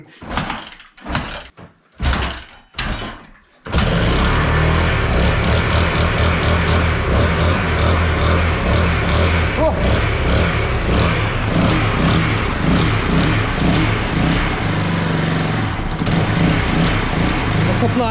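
A serviced off-road dirt bike sputters through a few short starting bursts, then catches and runs loudly and continuously in a garage, its engine close and dominant, slightly uneven as if missing.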